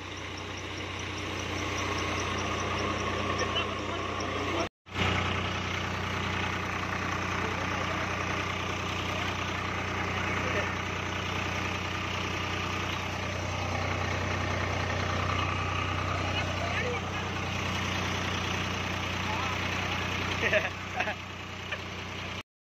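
Tractor engine running outdoors on a farm, a continuous loud idling rumble with a steady low drone, briefly cut once, with voices talking over it.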